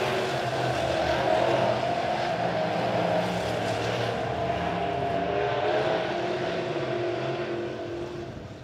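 Midwest modified race cars at a Springfield track roar past as a blended, droning engine sound from the distance, holding steady and then fading slightly toward the end.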